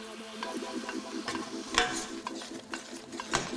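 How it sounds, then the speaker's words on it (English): A spoon scrapes and stirs through spicy lamb, tomato and coconut curry as coconut milk hits the hot pan, a soft sizzle under several sharp metallic clinks and scrapes. "Add a little bit of coconut milk"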